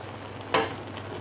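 Garlic hits a hot pan for buttered shrimp, giving one short, sharp sizzle burst that quickly fades into a faint background hiss.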